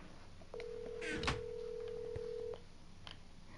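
Phone call ringing in Minecraft, a single steady electronic ring tone lasting about two seconds at moderate level, with faint background noise and a brief click, no talking.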